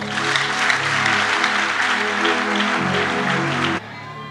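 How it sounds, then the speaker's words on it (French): A church congregation applauds loudly and continuously for nearly four seconds, a dense wash of clapping mixed with crowd voices and sustained music tones, before it cuts off abruptly. "Acclame très fort."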